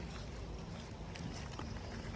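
A Tata Indigo car engine runs steadily at a low idle, close by, as a constant broadband rumble with no voices.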